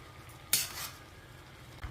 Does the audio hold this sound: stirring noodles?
yes